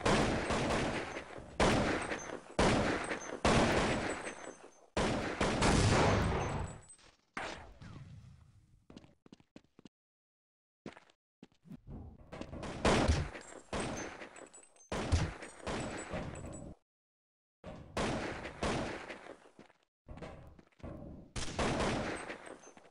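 Gunfire rattles in a competitive match of a first-person shooter video game, with repeated bursts of rapid shots and short pauses between volleys, loud and close, with no voices over it.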